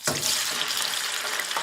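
A lobster tail deep frying in hot oil gives a dense, steady crackling sizzle with small bubbling pops, loud and close throughout.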